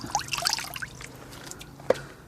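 Car wash mitt rinsed out in a bucket of water, a few sloshing splashes and trickles near the start, then a quieter stretch and one brief dip and splash toward the end.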